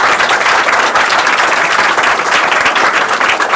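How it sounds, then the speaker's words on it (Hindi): Loud, dense applause from an audience at a certificate presentation for a free-education class, sustained clapping close up for the whole stretch with no talk. "जरा जोरदार ताली से स्वागत कीजिए"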